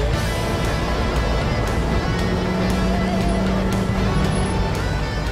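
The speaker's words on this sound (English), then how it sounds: "From the second Vic jumped the engine, we knew it was going to be cool." A loud trike engine drones steadily throughout with strong wind rush, like an open vehicle moving at speed, with no clear voices.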